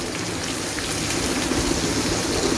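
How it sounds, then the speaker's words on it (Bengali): Green beans, carrot, tomato, onion and green chili frying in a pan, a dense continuous sizzle that sounds like steady rain, loud and close with no talk. "সবজির মধ্যে আমি দিয়েছি বরবটি গাজর টমেটো পেঁয়াজ কাঁচামরিচ এখন আমি সবগুলো ভালোভাবে ভেজে নিব"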